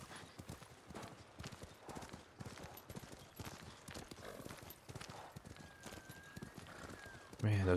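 Hooves of a horse clatter in a continuous trotting rhythm while crossing a bridge in Ghost of Tsushima, quiet and steady, with a louder burst near the end.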